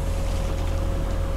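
A sailboat travels under engine power near the Île de Ré, giving a steady, continuous low motor drone mixed with water and wind rush, close and even in level throughout, with no voices.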